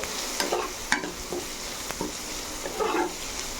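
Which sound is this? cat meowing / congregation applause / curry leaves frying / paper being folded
curry leaves frying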